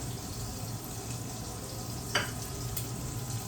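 A jalapeno sizzles steadily in a hot pan for black bean tortilla soup, a constant close frying hiss with one brief clack partway through.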